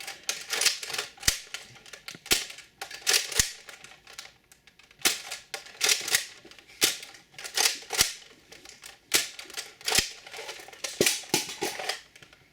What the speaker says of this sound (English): first be shooting Andrew's Longstrike, then we're going to analyze, and then shoot my Longstrike